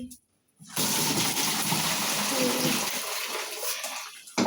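Liquid poured out in one continuous rushing splash lasting about four seconds, fairly close and steady, starting and stopping abruptly, with quiet background before and after.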